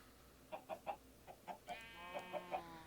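Minecraft chickens clucking in a farm setup, a series of short, faint, evenly spaced clucks in two quick bursts, heard alone at low volume.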